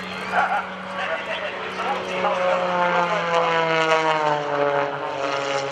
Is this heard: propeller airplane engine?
yes